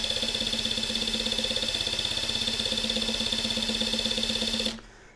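A DeWalt cordless impact driver spins at its lowest speed setting, giving a steady, even motor whine with a fine rapid pulse that holds level for several seconds before abruptly cutting off.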